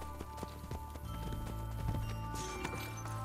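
Horse hooves clip-clop steadily at a trot in Assassin's Creed Brotherhood, with an armored white horse ridden over hard ground; the beats are close and clear over a low game ambience, and there is no talking.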